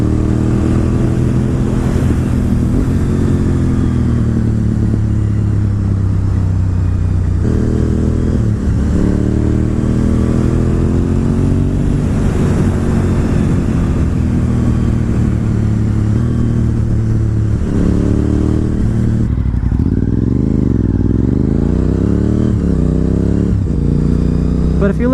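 A Honda RC51 VTR1000 SP2 V-twin sport motorcycle riding on a winding road, its engine loud and close with a continuous throbbing drone, rising and falling through revs and gear changes, with a rider's voice talking intermittently over it.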